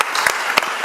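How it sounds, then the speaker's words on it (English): An audience at a childhood cancer awareness illumination event claps in a quick burst, individual hand claps popping irregularly over a dense, steady wash of applause. "Let's give these young people a round of applause again."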